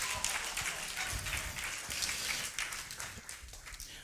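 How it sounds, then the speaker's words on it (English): A stand-up comedy show audience applauds in a continuous, rain-like wash of many hands clapping, moderately distant, with faint voices mixed underneath. "Everybody give Michael a round of applause as he welcomes me on stage."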